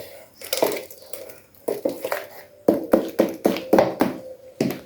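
Jamaican black cake batter being stirred in a bowl, a series of wet, thick slaps and knocks of the spoon against the bowl in a steady, uneven rhythm, close and fairly loud.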